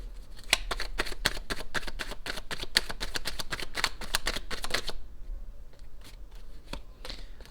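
A deck of tarot cards being shuffled by hand for a reading, a rapid close run of crisp flicking riffles for about five seconds, followed by a few scattered soft card taps.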